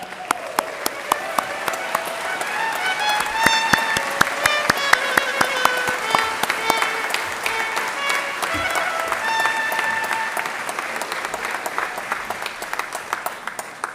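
Convocation audience gives graduates a sustained round of applause, a continuous wash of clapping with sharp individual claps and occasional cheers, steady throughout with some voices mixed in.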